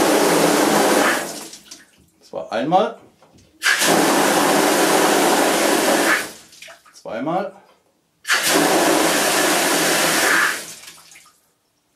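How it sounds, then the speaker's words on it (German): A household water filter being backflushed releases three loud, steady bursts of rushing water jet, each lasting about three seconds, with short spoken counts in the pauses between them. "Dann kommt hier unten der Wasserstrahl raus."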